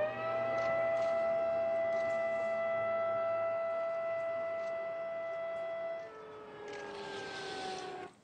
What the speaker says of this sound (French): Toutes les sirènes ont retenti pour appeler la population à communier dans le souvenir.